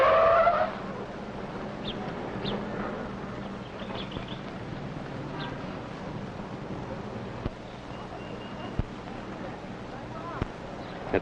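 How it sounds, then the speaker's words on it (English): A car brakes hard from about 30 mph to a stop, a short tire screech at the start fading into a steady engine and road hum, with a voice narrating over it and a few faint clicks. "At 30, hit the brake in about half a second."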